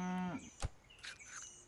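A cartoonish cow moos once in the video game Super Auto Pets, followed by a sharp thump and small chiming game effects.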